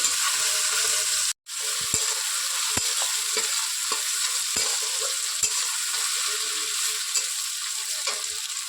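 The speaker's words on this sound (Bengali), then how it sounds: "দু মিনিট এভাবে একটু ভেজে নেব" Taro stolons (kochur loti) frying with salt and turmeric in a pan give off a steady bright sizzle, broken by a short silent gap early on and a few sharp spoon taps against the pan.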